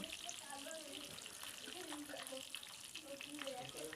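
Rui fish frying in a pan, giving a steady broadband sizzle and hiss that runs the whole time at moderate level, with faint low voice-like sounds underneath.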